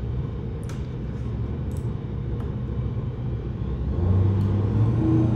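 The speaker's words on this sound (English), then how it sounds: "So we'll make a dyno pull, and we'll have a look at the numbers." A Rotax 912ULS aircraft engine fitted with EFI runs a dyno pull, giving a steady, low, dense rumble that swells slightly louder and gains a rising hum near the end.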